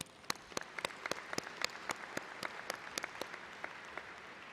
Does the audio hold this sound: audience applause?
yes